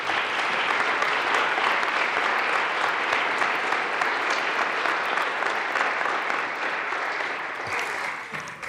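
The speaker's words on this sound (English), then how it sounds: "Please join me in a round of applause for Dr. Vern Howard" Sustained applause fills a Colorado state House chamber during a legislative session, steady dense clapping from many members lasting several seconds and tapering slightly toward the end, with no speech over it.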